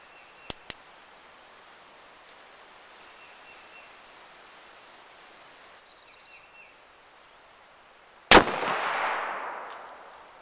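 A single loud, close pistol shot from a Lincoln Derringer fired outdoors at a zombie target ten yards away, with a long decaying echo after it; two faint clicks come earlier over quiet background noise.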